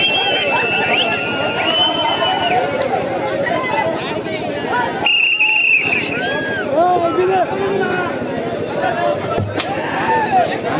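A village competition crowd keeps up loud, continuous shouting and chatter, with excited voices overlapping throughout and one sharp burst midway.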